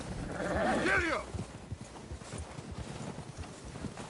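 Horse hooves clip-clop in Red Dead Redemption 2, a steady gait under a rider's loud shout that fades after the first second, leaving soft hoofbeats beneath the game's ambient background.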